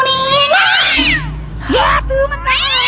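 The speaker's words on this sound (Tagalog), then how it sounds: "May pusa pala kayo? Oo, pusa namin yan, pero huwag mo nga hawakan." A house cat meows loudly and close by, giving several drawn-out, rising and falling cries in a row, with a person speaking briefly between them.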